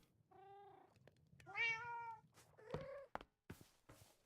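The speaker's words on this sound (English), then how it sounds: "You're very noisy for a little kitty." A small kitten meows repeatedly from across the room in Minecraft, with several drawn-out harmonic cries at moderate volume followed by short, sharper chirps; no talking.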